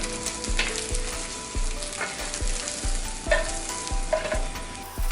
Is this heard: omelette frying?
yes